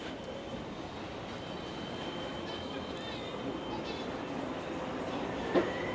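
A Vancouver SkyTrain at Commercial Drive station rumbles steadily with a low, continuous rolling roar and faint high squeal, heard from the platform at moderate loudness, with a brief click near the end.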